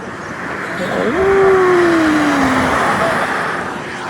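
Vehicles speed along a highway with a loud rushing roar, and one passes close with a sweeping engine tone that swells and fades.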